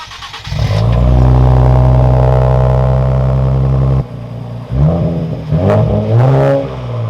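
A Nissan Z sports car engine cold-starts with a loud, sustained roar through a new exhaust, cuts off, then revs in a few rough bursts, close and loud.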